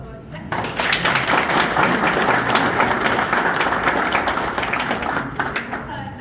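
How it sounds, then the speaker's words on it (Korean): Party members clap together at a campaign meeting with presidential candidate Kim Dong-yeon in Jeonbuk. Dense, loud applause starts sharply and holds steady for several seconds, close and full, before easing slightly at the end. "우리 서로 함께 만나서 반갑다는 박수 먼저 시작합니다"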